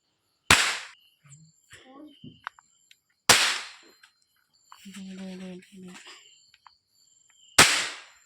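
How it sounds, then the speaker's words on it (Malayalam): Three sharp firecracker bangs burst at intervals during Vishu, loud and close, with quieter rattles and a voice speaking between them. "ഈ പടക്കാണ് കേട്ടാ നമ്മുടെ പൊട്ടിച്ചോ"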